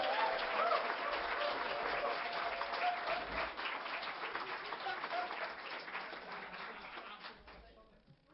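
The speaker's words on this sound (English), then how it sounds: "Round of applause, please." An audience at a live comedy show applauds, a steady, fairly faint wash of many hands clapping that fades out near the end.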